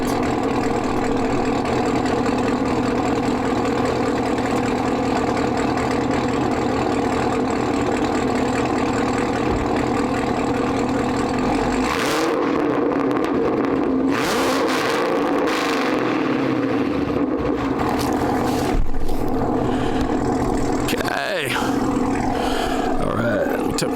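A manual Chevrolet Camaro ZL1 V8 with Corsa Extreme exhaust idles steadily with a deep, rumbling note, then revs and roars in bursts, loud and close throughout.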